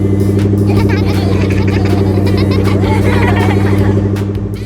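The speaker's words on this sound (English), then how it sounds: "The bus is happily rolling along the road." A cartoon bus rolling along a road, a loud steady droning engine hum with a constant pitch, running under a busy mix of chatter and lively background sound before easing off at the end.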